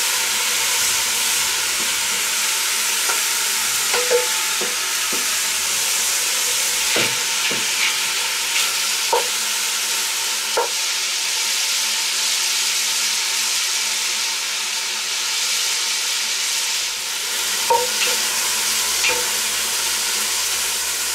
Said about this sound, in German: Wie lange ihr das Fleisch anbratet, bleibt natürlich euch überlassen.